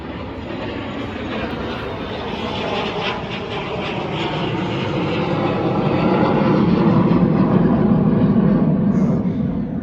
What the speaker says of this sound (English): now I've got a loud jet flying over